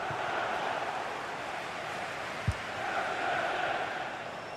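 Stadium crowd noise in a football video game: a steady, distant roar of cheering fans, fairly faint and unbroken, with a brief thud partway through.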